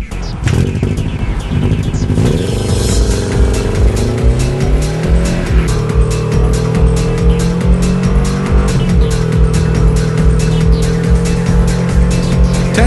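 A car accelerates hard from a standstill to 60 mph, its engine loud and close, rising through gears in repeated climbing pitch sweeps with a rough, pulsing exhaust note throughout.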